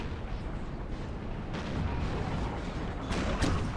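Artillery fire in the video game Napoleon: Total War, booming cannon shots rolling over a dense, continuous battlefield din, with a few louder blasts standing out midway and near the end.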